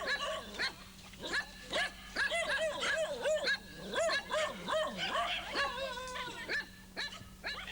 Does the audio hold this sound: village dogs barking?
yes